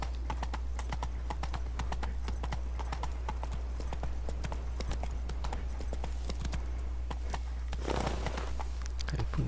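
Horse galloping in The Witcher 3: Wild Hunt, a steady rapid clip-clop of hooves running continuously and close, with a brief snort or whinny near the end over a constant low hum.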